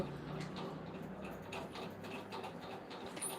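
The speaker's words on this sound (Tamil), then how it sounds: "புது ஃபேன் தான் இப்போ வாங்கின ஃபேன் தான் இப்படி" A newly bought electric fan runs with a faint, steady whirring hum, overlaid by soft, rapid ticking and rattling clicks.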